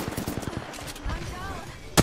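Rapid automatic gunfire in Apex Legends sounds as a quick rattling burst at the start, followed by game voices and effects, then another sharp loud shot near the end.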